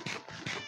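A cat meowing in a video game: two short, bright, close meows in quick succession, clear and alone.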